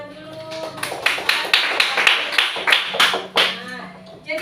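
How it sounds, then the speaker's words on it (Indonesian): A school class clapping hands together during a lesson on digestive system disorders, a series of sharp, quick claps in uneven bursts, with children's voices and talk mixed underneath. "Iya, tepuk tangan dulu."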